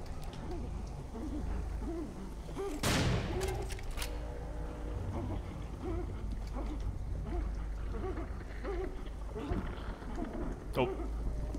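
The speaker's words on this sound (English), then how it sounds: "Double shotgun." Double-barrelled shotgun blast in the shooter game Serious Sam 4, one loud close burst early on, set among steady game noise with a few fainter sharp reports later.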